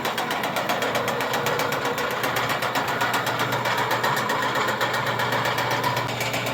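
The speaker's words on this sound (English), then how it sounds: "You can see the in-feed auger working here." The in-feed auger of a rebuilt DMC 40 HI-CAP rotary grain cleaner runs with a steady, loud mechanical drone and a fast, even rhythmic pulsing, constant throughout with no talking.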